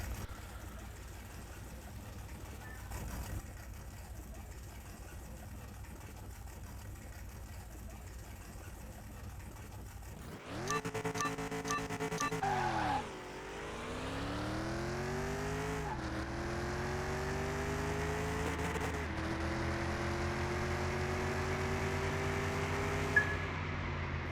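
A 1965 Ford GT40 rebuild, street legal, at the track. A faint idle gives way to a loud launch and full-throttle run, the engine note climbing sharply through gear changes and holding high near the rev limiter.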